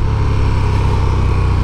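A 2021 KTM 1290 Super Duke R engine runs steadily while riding, a loud, constant low drone with even rumble and no clear revving, no talk over it.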